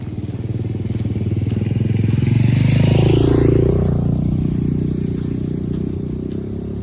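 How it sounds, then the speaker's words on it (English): A dirt bike's engine drones on a quiet hiking trail, swelling as it approaches and passes fairly close, then settling into a steady hum as it moves on, with no other sounds around it. "in the quiet hiking trail, I can hear the dirt bike from a great distance making its way towards me"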